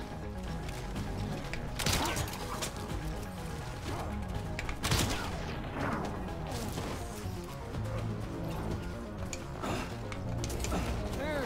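Gunfire in Death Stranding, with several sharp blasts and crashing impacts standing out from a busy, clattering mechanical background at steady loudness, and no speech.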